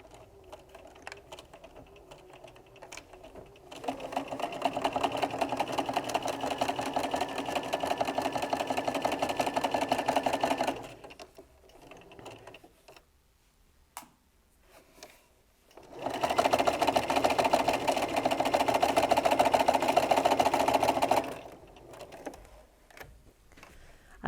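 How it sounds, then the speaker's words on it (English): A sewing machine stitches through extra fabric layers while making a quilter's wallet, running in two steady bursts of about seven and five seconds separated by a pause, close and clear with no talking. "It's just moved out of the 1/4 of an inch because I'm sewing through the extra layers."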